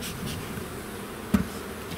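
A steady low buzz of many honeybees close by at a hive, continuous throughout, with a brief knock near the end.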